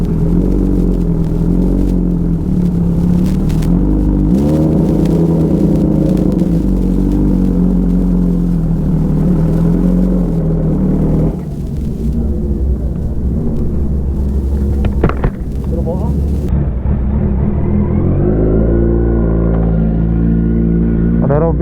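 A motorcycle engine with an Avionic aftermarket exhaust rumbles and revs loudly and close by, its pitch rising and falling through repeated throttle blips, with a brief pause in the middle and voices heard faintly under it.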